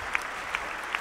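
Steady applause fills the large Vredenburg concert hall in Utrecht for a baroque opera ensemble and its violinists, a continuous wash of clapping with three crisp close claps popping out in a regular beat.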